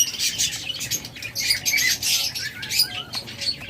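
Lovebirds and budgerigars chirp and squawk together in a busy, continuous chatter of overlapping high calls, close and fairly loud, with no voices.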